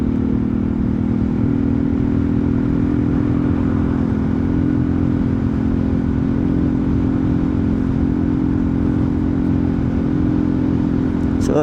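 A Euro Rock R125 motorcycle engine drones steadily and loudly up close while riding, a constant low mechanical hum with clattering texture and no break, with no one speaking.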